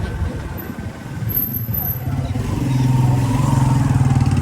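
A motorcycle engine warming up nearby, idling with a low throbbing rumble that grows louder and steadier partway through, with a faint high whine at times.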